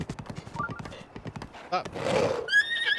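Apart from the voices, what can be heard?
horse in video game Zelda: Breath of the Wild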